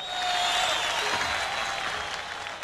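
Dense applause from a concert crowd, loud and sustained throughout, with a high whistle-like tone briefly audible at the start.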